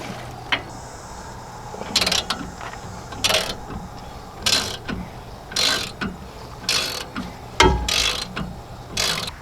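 A ratchet loosening oil-soaked nuts on the suspension of a Nissan Titan pickup, with repeated close bursts of rapid clicking separated by short pauses.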